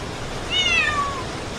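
A pet cat meows once for food, a clear, close, falling cry against a steady background of rain hiss.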